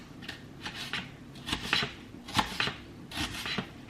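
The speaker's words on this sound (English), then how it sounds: "So now we're chopping up the red onions." Red onions chopped with a knife on a cutting board for a quick vegan weeknight dinner: a steady run of crisp, close chopping taps with a few louder strikes, no voices.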